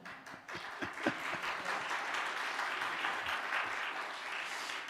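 A congregation at a Korean church mission revival service applauds, a broad wash of many hands clapping that starts with a few distinct claps and settles into a steady, moderately distant roar.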